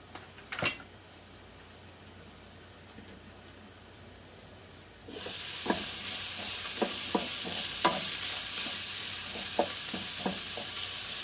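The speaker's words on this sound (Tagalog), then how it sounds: "Kailangan lutuin muna natin yung onion." Onion cooking in a pan over low heat, a steady soft sizzle that swells louder midway, with scattered spoon-stirring scrapes and taps over it, close and without talk.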